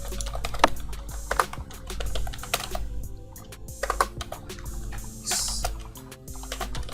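Rapid, uneven clicks of typing on a computer keyboard, close and fairly steady over a low background hum, with short pauses between bursts of keystrokes.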